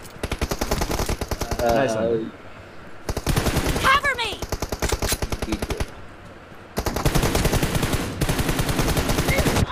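Rapid automatic gunfire in a BGMI team deathmatch, loud close bursts that pause briefly twice and then resume, with players talking over the shots.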